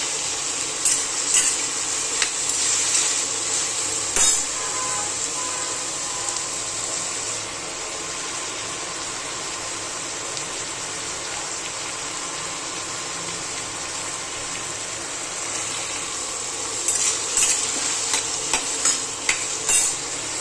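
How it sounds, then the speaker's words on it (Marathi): Cauliflower frying in oil in a pan, a steady close sizzle with occasional clinks and stirring scrapes of a spoon against the pan. "तेलामध्ये फ्लावर चांगला भाजून"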